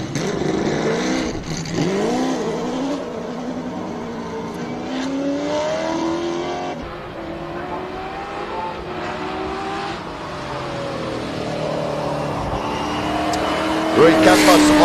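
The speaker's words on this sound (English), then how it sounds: "I think just getting up the hill in that Cobra in wet conditions is pretty impressive." Cobra race car climbing a hill at a hillclimb event in wet conditions, its engine rising and falling through gear changes with tire noise, steady and fairly loud throughout while a commentator talks over it.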